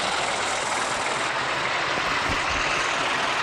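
In the mobile driving game Bus Master Indian 3D, a bus engine starts and runs with a steady, loud, low rumbling drone that continues without pause.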